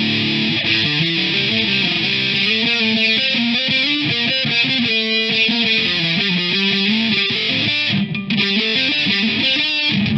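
Electric guitar through a NUX MG100 amp modeler on its 'Pedal sound' distortion preset, dense saturated chords and riffs played continuously and loud with no talk.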